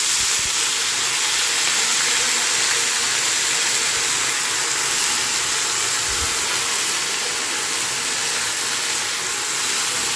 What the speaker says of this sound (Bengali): তো এই ফুলটা দিয়ে নুন হলুদ দিয়ে আমি এটা রান্না করে নেবো।